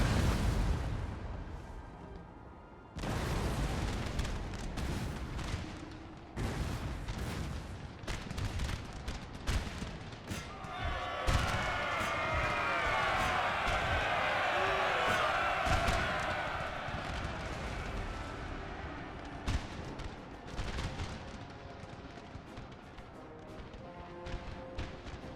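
Artillery volleys in a Napoleon: Total War battle: heavy booming shots thud repeatedly over a dense, roaring wash of battlefield noise, steady and loud throughout.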